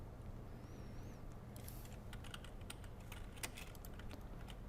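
Computer keyboard keys tapped for shortcuts while drawing in CorelDRAW, a quick irregular scatter of light clicks over steady low background hum, no talk.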